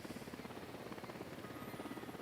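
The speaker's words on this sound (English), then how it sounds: "Chopper's approaching." Helicopter in a military shooter video game, a steady rapid rotor thump throughout, moderately loud and continuous.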